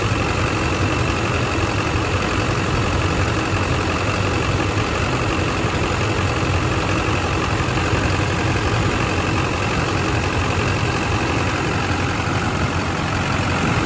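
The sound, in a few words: diesel truck engine idling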